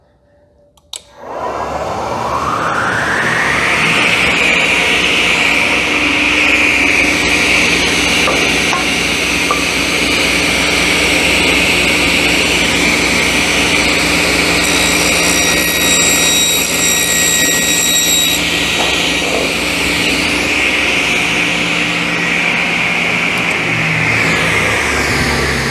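A Rockwell 12-14 inch table saw fitted with a rip blade and no insert spins up after a click into a loud, steady whine, then bites through a 2x4, briefly shifting the tone before settling back to the running hum.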